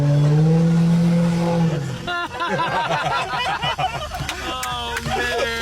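A Mercedes-Benz S600 fitted with a $12,000 aftermarket exhaust, its engine note loud and close, rising sharply into a series of hard revs with crackling bursts after a steady idle-like drone.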